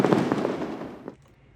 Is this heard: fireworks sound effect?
yes